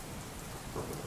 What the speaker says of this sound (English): I know it's raining, but I like the rain